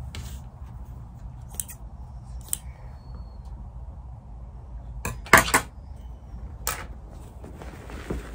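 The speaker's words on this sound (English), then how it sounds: "cut across your corners to reduce the bulk and then turn it through" Scissors snip across the fabric corners of a sewn messenger-style picnic bag, giving several sharp, close cuts scattered over a quiet room hum, with a tight cluster of louder snips near the end.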